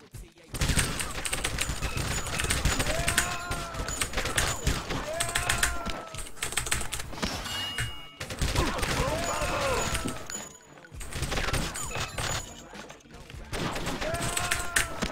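Rapid bursts of gunfire during a shootout in the True Crime: Streets of LA video game, dense volleys repeating across the whole stretch with brief gaps, mixed with mechanical clatter and impacts, loud and close.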